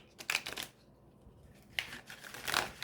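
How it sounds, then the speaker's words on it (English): Tarot de Marseille cards being cut and gathered into three piles by hand, giving a few soft papery riffles and slaps near the start and again toward the end, with a quiet pause between. "And I'm going to cut you into 3 piles."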